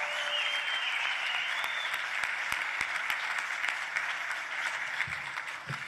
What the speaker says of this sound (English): Give him and Vicky a huge round of applause, would you please?